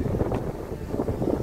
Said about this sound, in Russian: Ну, ветер здесь, конечно.